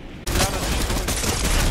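Dense video game gunfire, a sustained fusillade of rapid shots from an island and rooftop, loud and continuous after a brief quiet start, with no speech over it.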